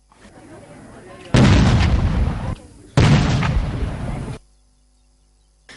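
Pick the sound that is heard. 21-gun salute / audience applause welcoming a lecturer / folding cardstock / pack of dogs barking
21-gun salute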